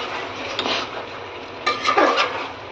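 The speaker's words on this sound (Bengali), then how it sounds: "এটা একটু নেড়ে নেব।" Chicken makhmali with fresh cream and kasuri methi is stirred in a pan over low gas, giving soft scraping strokes in a few quick bursts over a steady low sizzle, close and without talk.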